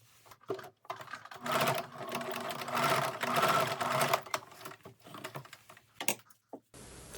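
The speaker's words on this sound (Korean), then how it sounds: "양옆에 삼각형을 모두 박음질을 합니다." Domestic sewing machine stitching the side triangles of a padded jacket, with a quick, steady run of needle chatter in the middle and short bursts and clicks before and after. The stitching is fairly quiet and close.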